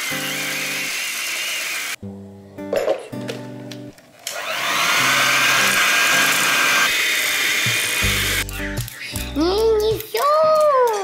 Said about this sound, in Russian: Теперь выливаем молочко. Молочко. И опять взбиваем.